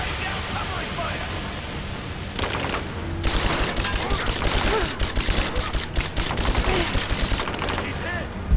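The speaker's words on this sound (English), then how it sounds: "Laying down covering fire!" Covering gunfire in Rise of the Tomb Raider: sustained rapid automatic bursts rattle over a noisy, rain-like background, starting after a quieter stretch and continuing densely to the end.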